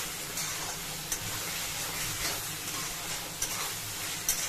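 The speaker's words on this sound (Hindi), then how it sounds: "जितना हम कीमे को भूनेंगे फ्राई करेंगे उतना टेस्टी बनती है कढ़ाई।" Beef keema seasoned with black pepper powder frying in a kadhai, giving a steady close sizzle and hiss with a few faint scraping clicks from stirring.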